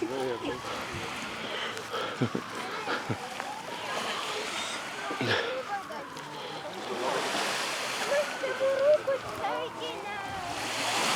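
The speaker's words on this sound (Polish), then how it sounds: "No jak widać fala, fala żadna. To tylko troszkę tutaj pulkocze, pulkocze." Gentle, near-calm waves lapping softly on the Gulf of Gdańsk shore at Jelitkowo beach, a faint wash of water beneath someone talking throughout.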